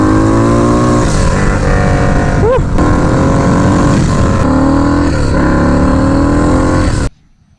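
Harley-Davidson Sportster motorcycle engine blowing off while idling and revving, a loud continuous rumble with a brief rising squeal near the middle, cutting off abruptly at the end.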